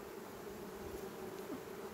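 Honey bees buzzing around a hive frame, a steady close, droning hum from many bees with no breaks, faint overall.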